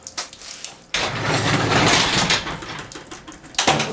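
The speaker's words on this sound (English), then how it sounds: "let me shut this door." A sliding door is dragged shut along its track in a shed, a sustained scraping rumble lasting a few seconds that ends with a sharp knock as it closes, with a second thump just after; no voices.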